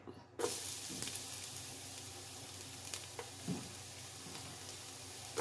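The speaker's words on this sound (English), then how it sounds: "We're gonna saute our garlic." Garlic sautés in a tablespoon of oil for vegetable and chicken soup. A steady, quiet sizzle runs throughout, broken by faint scrapes of stirring and an occasional clink of a utensil against the pan.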